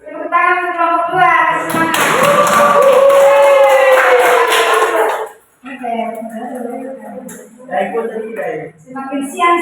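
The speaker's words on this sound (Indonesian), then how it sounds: "Tepuk tangan untuk kelompok dua." A classroom group bursts into applause for group two, the dense clapping lasting a few seconds and mixed with voices and chatter, followed by a teacher speaking.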